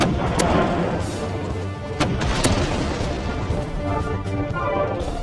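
Machine gun fire in the World War 2 tank game Tanks of Battle, a dense, continuous rattle of shots with heavier thuds mixed in, loud and close throughout with no talking.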